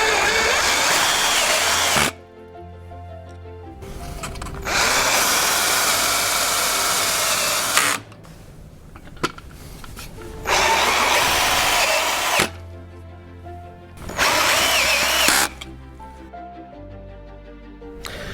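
Power drill driving screws into an aluminum railing post while fitting a Westbury Lokk Latch Deluxe gate latch: several loud, sustained whirring bursts of a few seconds each, separated by quiet pauses.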